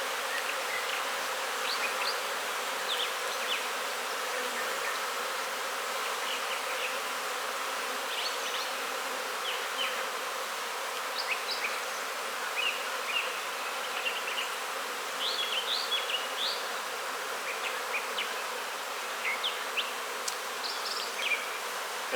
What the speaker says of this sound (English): Just smoking the bees down to make putting the frames back in a little easier.